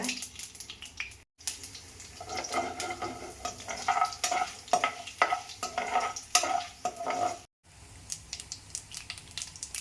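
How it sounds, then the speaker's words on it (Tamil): Urad dal and chana dal frying in tempering oil, with bursts of crackling sizzle and scraping stirs at close range, broken by two brief silent gaps, and no one speaking. "அடுத்து உளுத்தம் பருப்பு, கடலைப்பருப்பு கொஞ்சோண்டு போட்டுக்கலாம் தாளிப்புக்காக."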